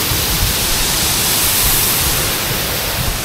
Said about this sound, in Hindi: वाह, पूरा 3 लेयर में वाटरफॉल है। वहाँ से पानी गिर रहा है